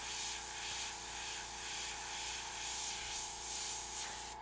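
An airbrush sprays custom paint in a steady, continuous hiss, close and even, with slight pulsing as short strokes are applied and no one talking.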